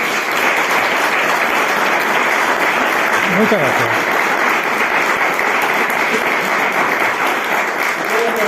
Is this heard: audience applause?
yes